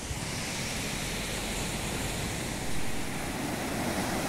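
Broadband ocean surf washing onto a beach at Ubatuba, a steady close rush of water that swells slightly louder toward the end, heard alone without voices.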